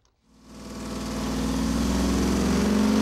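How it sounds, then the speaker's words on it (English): A junkyard 460 big block engine runs on a dyno, warmed up and idling with a loud, steady low rumble that swells in after a brief moment of quiet and holds constant. "The motor's warmed up"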